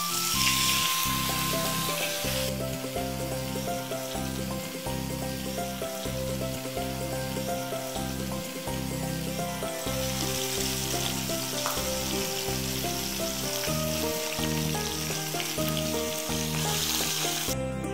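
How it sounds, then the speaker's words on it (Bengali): Stuffed pomfret fish sizzle steadily in hot oil for the full stretch, a continuous crackling fry heard beneath a louder, constant musical backing. "এবার পমফ্রেটগুলোকে একটা একটা করে ভেজে নেব পকেট যেদিকটা কাটা ছিল সেদিকটা আমরা তেলের মধ্যে দেব"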